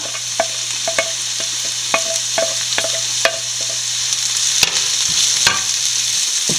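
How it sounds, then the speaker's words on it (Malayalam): Onion, green chili, ginger and garlic sautéing in a pan with a steady soft sizzle, while a spoon stirs and scrapes at irregular intervals, close and clear with no talking. "ഇഞ്ചിയും സവോളയും വെളുത്തുള്ളിയും പച്ചമുളകും എല്ലാം നല്ലപോലെ വഴന്നിട്ടുണ്ട്"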